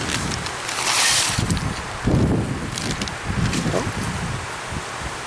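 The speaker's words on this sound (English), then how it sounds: "Oh, here comes that wind again." Gusty wind blows outdoors through a garden where seeds are being sorted, a broad rushing hiss that swells and fades with bursts of rustling, heard close to the microphone with some faint movement underneath.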